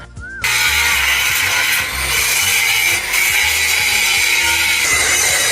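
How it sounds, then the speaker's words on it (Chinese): A power grinder loudly smooths a weld bead on a steel truck suspension bracket, whining steadily and close up with slight dips in load as it works the metal. "师傅还需要对焊巴进行打磨光滑。"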